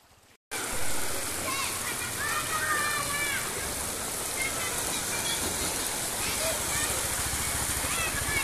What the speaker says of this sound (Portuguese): A chuva agora aqui em Santa Cruz da Baixa Verde, Pernambuco, agora nesse exato momento do meu dia.